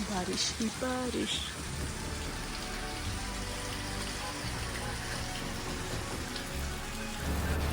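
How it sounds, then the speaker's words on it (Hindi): Heavy monsoon rain in Shimla, Himachal, falls as a dense continuous patter on surfaces, with low rumbling underneath and faint background sounds throughout. "बारिश ही बारिश।"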